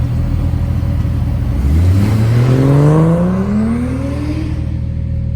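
Datsun 280ZX engine idling steadily, then revving up as the car pulls away and accelerates through rising gears, loud and close throughout.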